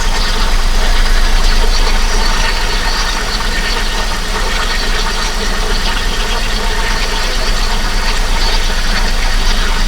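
A Commodore VX with a 3.8 Ecotec V6, started after three years of sitting with rats nesting in it, idles loudly and steadily up close with a rough, knocking rumble, no talk.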